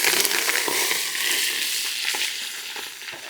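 Chopped green chillies frying in hot oil for chicken biryani, a loud, steady, close sizzle and crackle with no voices.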